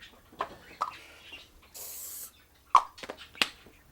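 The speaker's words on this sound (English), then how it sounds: "we're going to get out some Pam cooking spray, and we're just going to spray it all over the stove" Pam cooking spray hisses in one brief burst of about half a second as it is sprayed over a stove, set among scattered clinks and kitchen handling noises.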